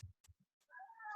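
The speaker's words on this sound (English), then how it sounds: "I don't know whether you can hear my cat crying." A domestic cat crying for food: a few soft, low bumps and clicks, then a clear drawn-out meow that rises and wavers, quiet and close in an otherwise still room.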